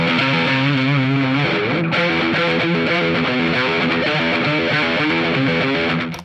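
An electric guitar on a Les Paul's neck pickup plays a sustained, distorted melodic line with a smooth, rounded tone, loud and continuous throughout.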